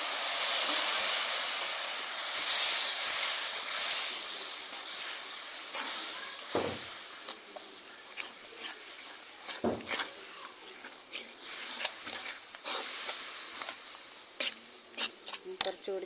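Vinegar goes into a hot cucumber pickle in a pan and sets off a loud, hissing sizzle that slowly eases, with scattered light clicks and splutters over it.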